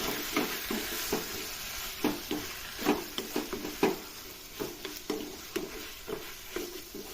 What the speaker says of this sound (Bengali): মিক্স করে নিচ্ছি।